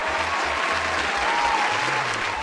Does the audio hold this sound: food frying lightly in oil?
no